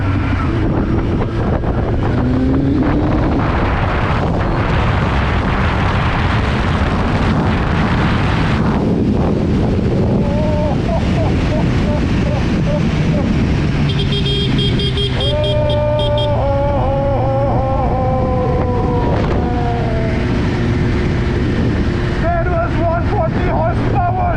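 2019 Kawasaki Ninja 1000 superbike accelerating on an open road, engine roar climbing through gears under heavy wind buffeting on the microphone, with the rider's excited voice breaking in at times.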